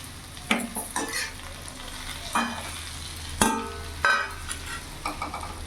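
Potato and okra frying in a pan, a low background sizzle broken by several sharp scraping stirs of a spatula at irregular intervals, close and fairly quiet, with no voices.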